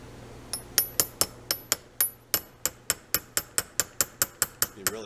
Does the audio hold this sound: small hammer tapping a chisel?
yes